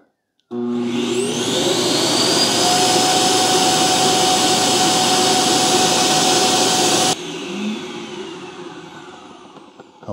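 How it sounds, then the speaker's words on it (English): An iRobot Roomba j7+ self-emptying base station sucks debris out of the robot with a loud, steady roaring whoosh that runs for several seconds, then drops suddenly to a lower whir that fades away. "Now the base unit is kind of loud when it sucks all the debris out."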